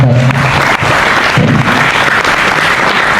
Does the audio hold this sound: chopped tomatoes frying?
no